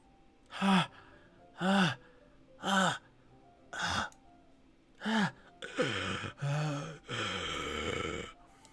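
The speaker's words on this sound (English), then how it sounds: "It sounds like breathing. Sharp inhale, like something is sucking the air out through her teeth." Sharp breathy inhales in a video game, five evenly spaced gasping breaths followed by longer, rougher drawn-in breaths and sighs, close and alone.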